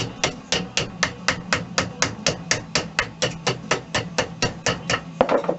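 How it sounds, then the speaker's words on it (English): Sheet metal clamped in a vise is folded over with a hammer, giving a long run of evenly spaced sharp metallic blows, close and fairly loud with no talking. "I've now got the metal in the vise, and I'm going to start to fold it over"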